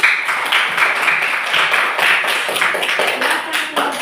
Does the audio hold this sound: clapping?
yes